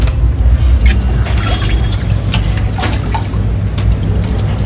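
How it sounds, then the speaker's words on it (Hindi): Fruit being washed in water, with steady sloshing and splashing plus scattered drips and trickles, close and continuous throughout. "ये मोना धो रही है फल।"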